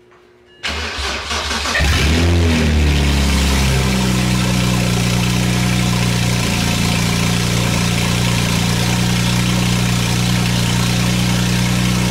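A 2007 BMW N54 engine with a Burger Motorsports Stage 3 tune cranks briefly, catches and settles into a loud, steady, deep idle right up close.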